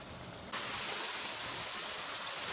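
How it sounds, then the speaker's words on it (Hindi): Water from boiled rice for chicken biryani pours out in a sudden steady rushing stream, a bright, loud splash that continues without a break after a quieter start. "चावल उबल गए हैं, इनका पानी निकाल देते हैं।"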